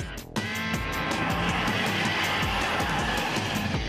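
Cars from the 1990s, a Jeep Cherokee, BMW, Mercedes Geländewagen and a Lada Nine, launch on a timed run at a Kyiv autodrome, engines roaring loud and steady from start to finish with no talking.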